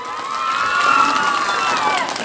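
Students cheering and shouting for quiz contest winners, a lively crowd with high-pitched voices rising and falling, loud and sustained with little distinct clapping.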